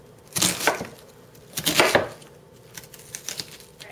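Crisp knife strokes chopping fresh market onions on a cutting board, two dense bursts of rapid cuts followed by lighter, scattered taps, close and clear with no talking.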